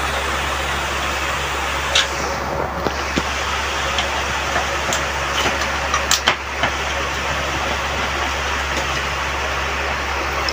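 An air conditioner's worn, noisy fan motor runs with a steady drone and a low hum close by, with scattered light ticks and clicks over the constant whir.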